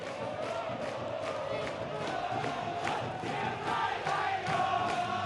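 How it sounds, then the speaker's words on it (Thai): Chiang Rai United supporters cheer in a football stadium, a broad, sustained crowd roar with rhythmic chanting swells, with a commentator talking over it. "ฝั่งกองเชียร์กว่างซงนะครับที่ได้เฮก่อน"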